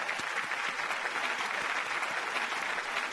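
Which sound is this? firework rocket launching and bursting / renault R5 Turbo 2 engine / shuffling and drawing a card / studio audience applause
studio audience applause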